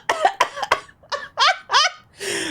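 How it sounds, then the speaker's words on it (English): A fit of coughing from smoking weed cut with tobacco in the game Perfect Tides, with three quick hacking coughs followed by three longer, rasping, voiced coughs and a hoarse trailing breath, all close and loud. "The coughing gets you higher."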